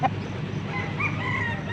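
A rooster crows among many crossbred fighting cocks at a chicken sale, a drawn-out call rising over a busy background of other birds and faint crowd noise, close and moderately loud.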